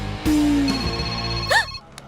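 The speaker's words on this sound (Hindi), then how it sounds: "घंटी बजी तो ये वाइब्रेट मोड पे क्यों चली गई?" A mobile phone rings indoors with a short electronic tone that cuts off after about a second and a half, followed by a brief trill, in a quiet room.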